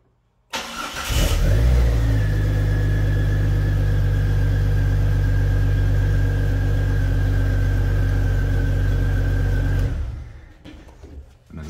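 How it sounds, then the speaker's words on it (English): A 1999 Jeep Cherokee fitted with a push-button start cranks briefly and catches, then idles loudly and steadily for several seconds before it is switched off, leaving near silence. "we're gonna push the start in a 99 Jeep Cherokee"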